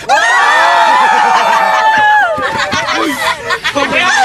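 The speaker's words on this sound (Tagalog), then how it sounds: "O, crowd, magsigawan!" A crowd of fans on a bus heading to a FlipTop rap battle shouts and cheers loudly and close, with overlapping voices and chatter that break into looser shouting toward the end.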